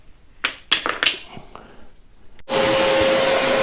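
A vacuum cleaner sucks up dust during a boat refit, switching on abruptly partway through into a loud, steady roaring drone with a whining tone, after a few clinks and knocks of handling.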